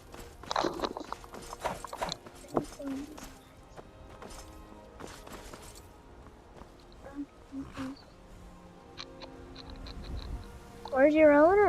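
Horse hooves clip-clopping in the Skyrim VR video game, a scattered run of light taps at moderate distance, with a person talking intermittently over them and a rising tonal sound near the end.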